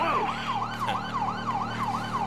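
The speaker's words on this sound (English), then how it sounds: "I don't think they can hear the sirens." A police siren in the video game GTA 5 wails in a fast, repeating up-and-down cycle over a low, steady engine hum, loud and close throughout.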